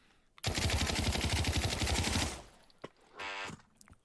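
Sten open-bolt submachine gun firing in Pavlov VR, a loud, rapid automatic burst of about two seconds, then a single click and a short mechanical ratcheting rattle as the weapon is handled.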